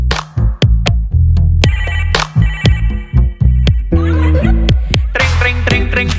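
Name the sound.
phone ringing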